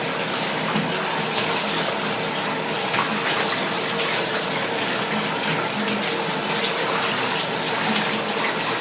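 Running water pours over an air exchanger pre-filter being rinsed in a sink, a steady close gush and splash that carries on without a break.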